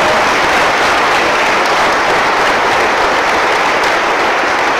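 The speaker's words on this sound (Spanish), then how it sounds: "¡Aplausos para Gabriel!" A church congregation applauds at a baptism, a dense, loud, steady wash of clapping sustained throughout with no speech over it.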